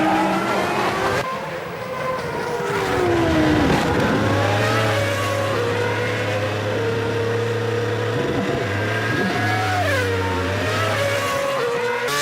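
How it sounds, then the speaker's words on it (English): Formula One race cars on the Australian Grand Prix circuit, loud engine whines rising and falling through gear changes as cars accelerate past, with a sustained low drone and overlapping engine tones. "Coulthard does all he can to reverse his team's fortunes, passing Barrichello for second."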